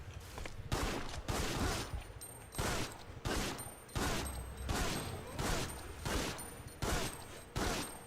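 Rapid bursts of video game gunfire during a firefight, loud and repeated in clusters roughly every half second to second, continuing across the whole stretch with a dense, noisy texture.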